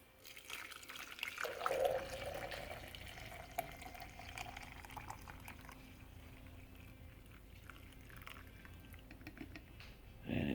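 Brewed stomach-settling tea poured from a coffee pot into a French press, a faint steady liquid trickle that swells briefly near the start and then runs on quietly.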